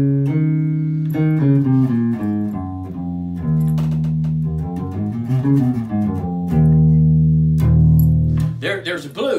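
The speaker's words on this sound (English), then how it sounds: "The Dorian sounds like this." An E Dorian mode scale played on a sustained, tonal instrument, with notes stepping up and down across several seconds, some bent or wavering, loud and close, with no talk.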